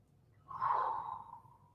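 A single deep breath drawn and released during a yoga stretch, a soft breathy rush of about a second, close and quiet.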